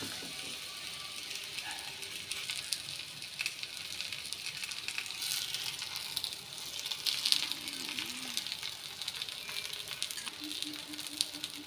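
Ragi adai batter fries on a hot dosa griddle, a continuous close crackling sizzle with a bubbly, spattering texture that holds steady throughout.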